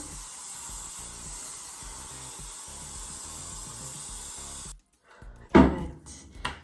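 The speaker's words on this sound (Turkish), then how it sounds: "Evet saçımı sıyırdım ve bol sprey sıktım. Hatta birazcık daha sıkayım." Hairspray sprays onto hair in a long continuous hiss for several seconds, then stops, followed by a couple of short louder bursts and handling noises close to the microphone.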